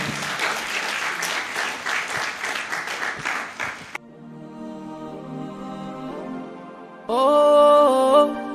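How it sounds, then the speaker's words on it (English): An audience at a book review event for "The Mourning Birds" by Samiha Sulleyman gives a full, steady round of applause for about four seconds, loud and close, before music takes over. "A round of applause one more time."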